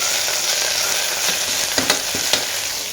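Mint leaves and browned onions frying in a pan for biriyani, a steady sizzle with a few sharp clinks of a stirring spoon against the pan.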